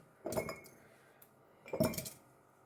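Two separate clinks and soft rustles come as large grapes are placed into glass jars for pickling, close and quiet, with a pause between them.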